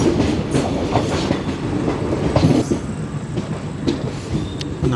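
The 22652 Chennai Superfast, a passenger train running from Palakkad Junction to Chennai Central via Palani, heard from a First AC coach. Its steady rolling rumble is broken by a rhythmic clickety-clack of wheels over rail joints, with no talk.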